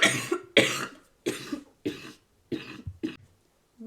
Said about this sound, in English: That just, like, dry cough comes out of nowhere randomly.